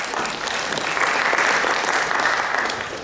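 An audience at a mayors' conversation event claps for a speaker, with a continuous burst of applause that swells in the middle and stays dense to the end.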